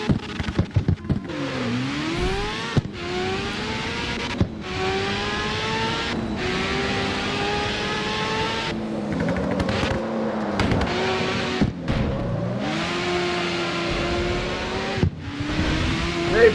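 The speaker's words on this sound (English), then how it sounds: "we shoved the rotary engine in here" Rotary-engined Evo street car in the CarX Street racing game revving hard through a mountain race, its rising and falling engine pitch sustained throughout with brief gear-change dips and no talk.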